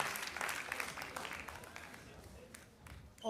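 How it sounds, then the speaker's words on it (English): Applause for a performer at the Y20 event, a fairly faint, continuous patter of crowd clapping that thins gradually, with speech-like sounds mixed in underneath. "big round of applause to that talent"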